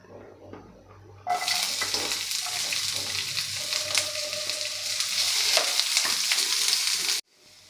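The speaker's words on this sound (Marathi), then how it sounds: "आता हे छान आपल्याला परतून घ्यायचं आहे अगदी हलकंसं परतून घ्यायचं आहे आणि त्यामध्येच घालायचं आहे आपल्याला कांदा" Onion sautés in a pan for a hotel-style veg Kolhapuri gravy, giving a loud, steady close sizzle and frying hiss that begins abruptly and then cuts off.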